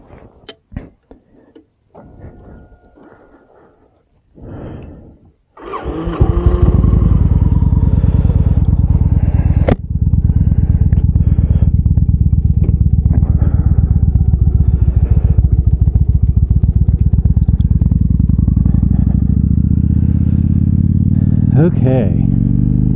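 A few clicks and clatters, then a motorcycle engine roars to life and settles into a loud, steady drone as it rides, with a voice briefly audible.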